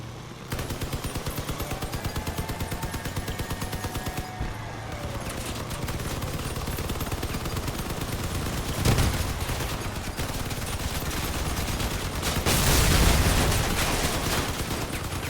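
Vehicle combat in the game Crossout fills the scene with dense, continuous gunfire: rapid bursts and volleys layered over a constant background of combat, swelling into louder blasts in the middle and again near the end.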